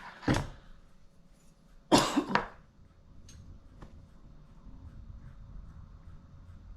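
A single sharp cough, then a louder double cough a moment later, close by, followed by faint clicks over quiet room noise.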